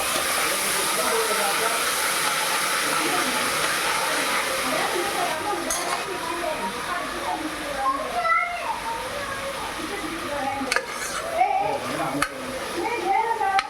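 Chopped tomatoes hit a hot pan while moong dal sambar is being cooked, giving off a continuous broad sizzling hiss that slowly fades as someone talks over it.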